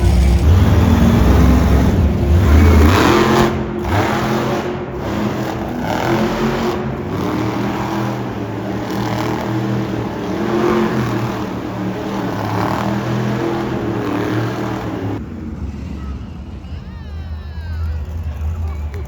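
Hot Wheels monster trucks rev their engines in an indoor arena during a live show, a loud continuous roar with crowd babble beneath, dropping somewhat toward the end.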